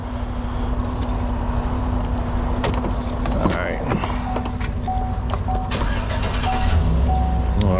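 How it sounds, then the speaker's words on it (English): Keys jangle in the ignition of a Freightliner service truck during a start attempt, over a steady mechanical hum that fills the cab; someone speaks briefly. "Start my truck before I wear my battery down on my strobe lights."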